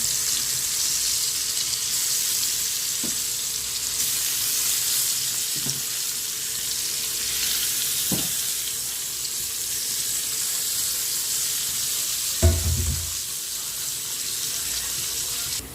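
Fish sliding into hot oil in a wok, giving a steady, loud broadband sizzle that fills the whole stretch, with a few sharp pops and a heavier spatter near the end.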